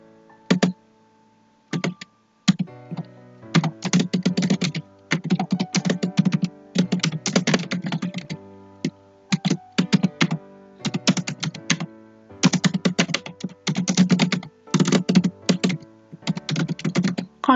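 Bursts of rapid clicking from a computer keyboard as a file name is typed during tax software use, coming in short irregular runs separated by brief pauses, close and clear with no talking.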